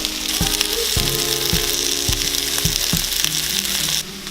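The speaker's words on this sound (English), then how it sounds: "while the corned beef is warming up in the skillet with the vegetables" Leftover corned beef and vegetables sizzle in a skillet, a loud steady frying hiss with a regular rhythm of low knocks about every half second, close and without talk.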